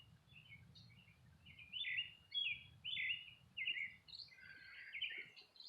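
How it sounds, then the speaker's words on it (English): Birds perched above a garden give a run of bright, chirping calls in quick bursts, moderately close, over a faint low hum in the background. "The birds are right above, waiting on food to eat"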